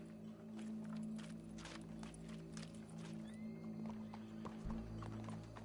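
Steady hoofbeats clop along under a constant background hum, with a horse snort or whinny faintly mixed in, from the video game Red Dead Redemption 2.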